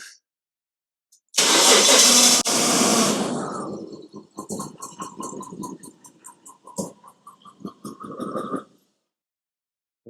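A Jaguar XJS Celebration with the 4.0 AJ16 engine cranks and fires, a loud burst of starting noise followed by an uneven, stumbling idle with irregular pulses before it cuts out, suggesting a misfire.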